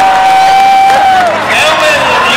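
Rodeo crowd at a bulls and barrels event in Raleigh, North Carolina, cheering and hollering loudly as a continuous roar, with whistles and whoops rising over the din.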